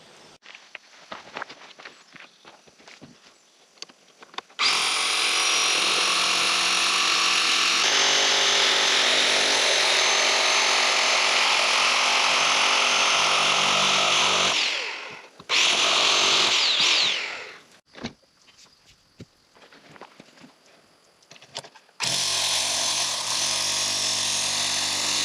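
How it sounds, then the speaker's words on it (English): Rotary hammer driving copper ground rods into the ground outdoors beside a tiny house: loud sustained hammering bursts of about ten seconds and two seconds, then another burst, with quieter handling noises between. "I need my rotary hammer and we'll get going on these rods."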